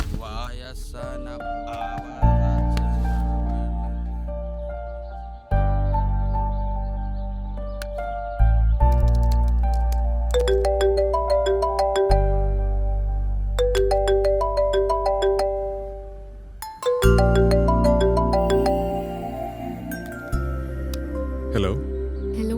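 A mobile phone ringtone plays a loud, bright electronic melody that repeats in several bursts, with brief breaks between phrases.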